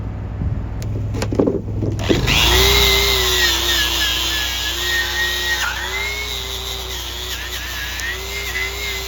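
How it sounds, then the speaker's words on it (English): After a few seconds of light clatter, an angle grinder fitted with a wire wheel spins up and buffs metal with a loud, steady whine, its pitch dipping slightly as the wheel bites. "Now I'll go get the grinder with the wire wheel on it, and then buff it up."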